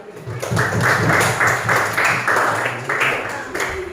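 Students clap in a steady rhythmic pattern in a school classroom, with bursts of roughly even beats repeating close by and fairly loud, and faint voices behind them.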